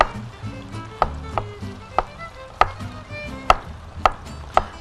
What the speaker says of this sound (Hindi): और इसको बस ऐसे पीसेस में काट लीजिए।